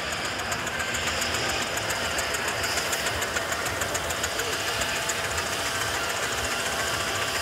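Sparky, a vintage steam traction engine numbered 84, chugs toward the listener at a steam rally in Driffield. The exhaust beats out a rapid, steady rhythm over loud, dense mechanical clatter that stays strong and close throughout.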